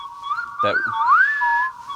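Whistled sound effects in an electronic dub-style music track: a clear, close whistle sliding and wavering in pitch, briefly joined by a short percussive hit.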